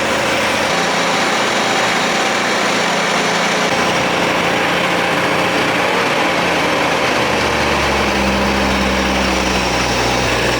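An old 1962 AMC Rambler engine idles fast and steady while cold, a loud continuous rumble with a slight drop in tone partway through.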